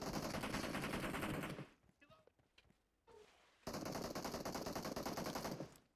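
Sustained bursts of rapid automatic gunfire in the mobile battle royale game PUBG Mobile, one long loud stream, a short quieter gap with faint clatter, then another long burst cutting off at the end.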